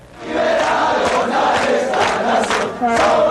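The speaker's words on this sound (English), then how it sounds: "a few noisy voters were out celebrating their victory over dictatorship" Crowd of voters in Chile cheering and shouting in celebration of victory over dictatorship, a dense, loud wash of many voices with rising bursts of yells, continuous throughout.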